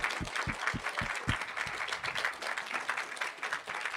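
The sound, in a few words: audience applause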